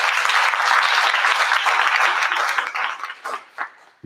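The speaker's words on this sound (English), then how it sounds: "can we give all of us a big round of applause?" An audience at a substance abuse event claps in sustained, dense applause that stays loud before thinning into scattered claps and fading out near the end.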